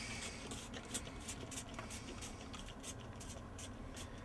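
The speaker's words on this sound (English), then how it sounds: "I'm going to take the pump bottle, spray a little base cleaner" A quick series of soft, hissing sprays of base cleaner from a pump bottle onto a snowboard, close by and fairly quiet, repeating in short bursts.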